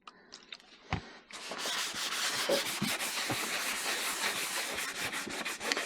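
Steady, close scrubbing of a 3D-printed OneWheel Vesc XR Bigfoot footpad surface, a dry rubbing rasp with rhythmic strokes that starts after a few light knocks and continues without talk.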